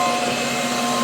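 A Dreame H15 Pro wet-dry vacuum runs its self-cleaning cycle, giving a steady, loud motor whine with a sustained tonal hum, close by and unbroken throughout.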